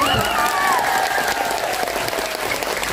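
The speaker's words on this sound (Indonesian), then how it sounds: "Tepuk tangan ya." A large audience at a religious lecture gathering in Kendal bursts into dense, sustained applause with some cheering, loud and continuous throughout, while a voice briefly rises over the crowd near the start.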